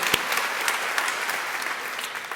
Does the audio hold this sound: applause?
yes